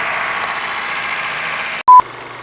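A 2010 Honda Freed engine idles steadily during a tune-up, a low, even hum that cuts out abruptly near the end before a brief beep and the engine sound returning.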